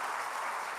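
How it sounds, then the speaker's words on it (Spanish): Brief burst of congregation applause in a church service, an even wash of clapping heard for under a second. "Dale un aplauso al Señor."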